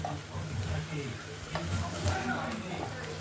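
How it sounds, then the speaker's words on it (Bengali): Mixed vegetables (radish, pumpkin, beans, cauliflower and its stalks, eggplant, potato) frying with spices in oil, giving a continuous sizzling hiss with occasional stirring clatter and a faint voice in the background. "মশলাটা ভালো করে কষে নিতে হবে এই পর্যায়ে।"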